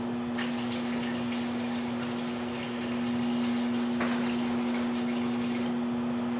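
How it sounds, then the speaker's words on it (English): A kitchen tap runs steadily while hands are washed, a soft continuous splash with a constant hum from a nearby appliance underneath and a brief clatter partway through. "And then I'll wash my hands."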